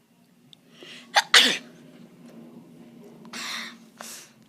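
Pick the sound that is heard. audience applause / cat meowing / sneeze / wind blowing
sneeze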